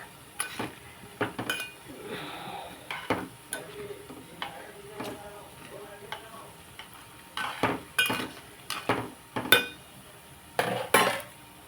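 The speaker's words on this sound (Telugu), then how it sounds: "ఇదిగోండి వేగుతున్నాయి కదా" Moong dal fritters frying in a pan of oil, with a faint sizzle under repeated close clinks and scrapes of a metal utensil against the pan, irregular and short.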